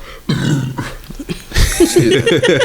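A loud, drawn-out burp from a podcast guest rumbles out in a couple of guttural bursts, followed by a few chuckles close to the microphone.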